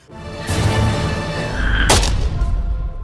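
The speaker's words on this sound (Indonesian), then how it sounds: "bosman menemukan Emma lalu menembaknya." A loud gunshot blast rings out with a sharp crack and a booming, rumbling tail, set in a dramatic movie-style mix.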